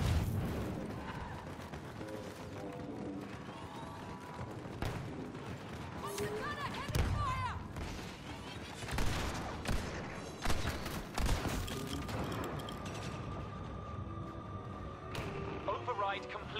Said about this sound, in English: Grenade in play!